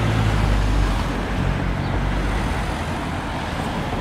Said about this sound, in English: got to get away from these cars